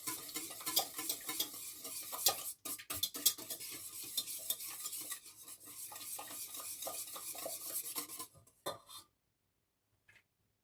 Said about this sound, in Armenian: Պետք է լավ խառնենք, որ ձվի հետ շաքարավազը, աղը, սոդան լավ լուծվեն։